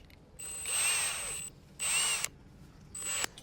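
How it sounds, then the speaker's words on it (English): A power drill whines in three short bursts while drilling a bolt hole, the motor revving up and stopping each time, close by. "you're gonna need some kind of a drill bit that's big enough for the bolt to go through"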